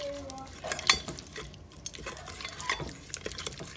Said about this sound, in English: Okay, let's get it all scraped down in there.